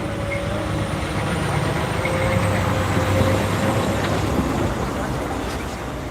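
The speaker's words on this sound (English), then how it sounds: "That coal train right there" A loaded coal train rolls steadily past the Old Wauhatchie Pike railroad crossing outside Chattanooga, a continuous close rumble of wheels and wagons with a faint high rail squeal running through it.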